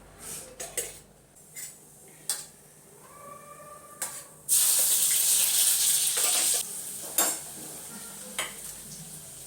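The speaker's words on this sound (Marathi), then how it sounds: "भाजी पटकन पहिले फोडणी देऊन देते" Hot oil tempering for a capsicum vegetable dish: a few scattered clinks and stirring taps, then a loud, hissing sizzle that bursts up for about two seconds before dying down to occasional knocks.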